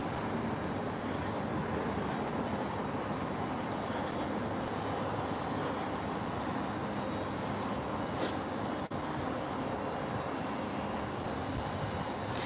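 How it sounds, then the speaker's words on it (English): A tourist helicopter flies over the Hudson River, a steady, distant engine and rotor drone that holds evenly throughout with no talk over it. "Probably a tourist helicopter because there's many of them that actually go up"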